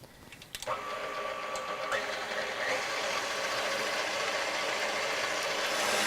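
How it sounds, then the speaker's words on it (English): An electric mixer whirs steadily as it whips egg whites with a pinch of salt for a meringue, a loud continuous motor drone starting after a brief clatter and holding constant. "you want to put them in your mixer. And you want to mix the egg whites and your salt"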